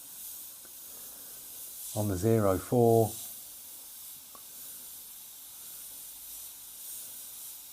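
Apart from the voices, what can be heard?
Evolution X airbrush spraying paint at 20 psi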